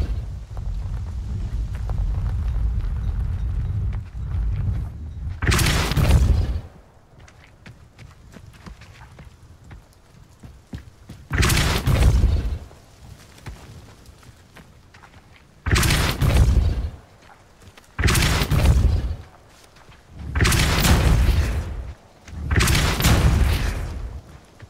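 Depulso spell blasts in the Hogwarts Legacy video game, five loud separate whooshing bursts, each a second or two long, spaced a few seconds apart over quiet ambient game sound.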